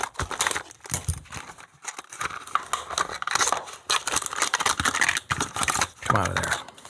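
Scissors snip and crunch through a stiff plastic package, with crinkling and crackling of the plastic in irregular close bursts while someone talks over it.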